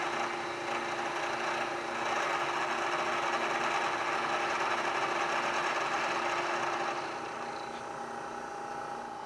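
NIMS Mill 2.5 milling machine taking a cut on a step block, a steady broadband cutting and motor hum that holds evenly for about seven seconds, then eases slightly toward the end, with no talk.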